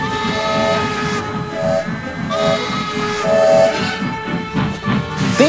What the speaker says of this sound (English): he could use his whistle without anyone hearing it